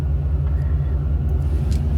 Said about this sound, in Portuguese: Aí tá chegando o motorhome,